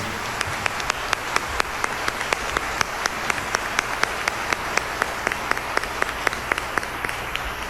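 A small group claps in a steady, fairly sparse rhythm at an AIDS benefit show at Key City Theatre, Cranbrook, individual claps distinct and evenly spaced, moderately close with faint background hum.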